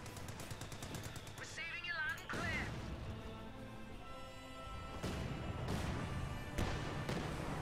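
German Ostheer mortar shells bombarding a church in the Company of Heroes 2 strategy game land as dull thuds among scattered sharp battlefield bangs and small-arms fire.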